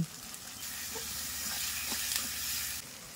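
Chopped onions and green chillies with spices sizzle steadily in a hot pan, a continuous bright frying hiss with occasional soft stirring sounds close by.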